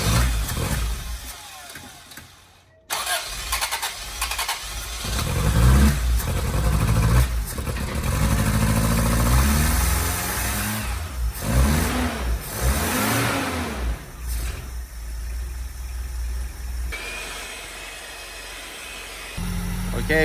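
A Toyota AE86 engine fitted with a Weber carburetor cranks, catches and fires up. It then idles and revs several times, the pitch rising and falling in sweeps, loud and close, before settling.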